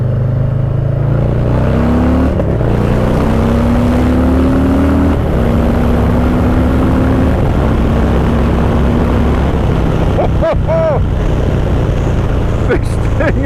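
A Harley-Davidson Low Rider S motorcycle pulls hard in second gear from about 3,000 revs, the engine note rising loudly through the gears with shifts, under heavy wind rush from an onboard ride.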